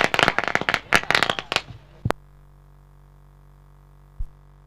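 At a cricket match, a rapid burst of sharp crackling firecracker pops fires off, then stops abruptly, followed by near silence with one last isolated pop.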